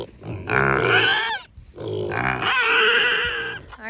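Kune Kune pigs on a homestead give two long runs of deep, throaty grunts close to the microphone, split by a brief pause, with no talking over them.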